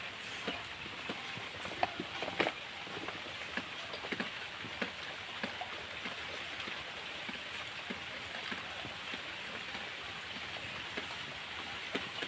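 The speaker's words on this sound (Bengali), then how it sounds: "দেখেছো জোরে জোরে বৃষ্টি হচ্ছিল" Heavy morning rain falls in a village, with scattered drops tapping and plinking on a surface nearby, a soft continuous patter.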